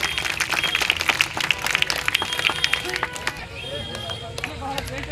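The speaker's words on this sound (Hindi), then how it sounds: "एक बार जोरदार तालियां बजाओ, जोरदार तालियां।" A crowd at an outdoor political support gathering in Dadri's Gandhinagar claps loudly and continuously, dense crackling applause with voices mixed in, thinning toward the end.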